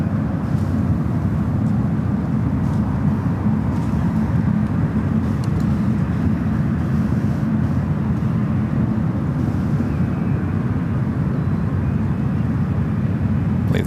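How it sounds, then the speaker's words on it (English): An Air France Boeing 777-300ER airliner taxis toward runway 28 Left at SFO, a loud continuous low engine rumble and roar that holds steady throughout without a break. "So Air France sending back to Paris in this 777-300ER heading to runway 28 left"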